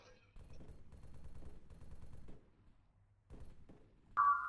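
Rapid bursts of Arma 3 gunfire crackle for a few seconds, pause, then resume briefly before a sustained electronic tone cuts in.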